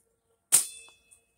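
A homemade falchion sword made from a machete whacks into bush with one sharp, loud clang that rings on with a bright metallic tone for about half a second, then a faint small tap follows.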